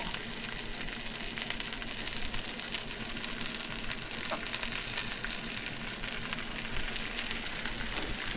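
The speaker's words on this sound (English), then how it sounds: "Get a nice sizzle." A steady, crackling sizzle of a razor clam frying in hot butter, close and continuous without talking.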